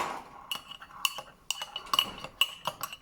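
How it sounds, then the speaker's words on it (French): A spoon stirs in a bowl with repeated clinks and scrapes of cutlery against the dish, close and fairly bright, in uneven bursts with short pauses and no talk. "Donc là je mélange."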